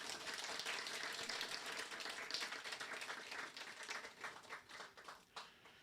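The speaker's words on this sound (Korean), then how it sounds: "박수 부탁합니다." Audience applause at a blessing ceremony, a dense, distant patter of many hands clapping continuously before gradually thinning out toward the end.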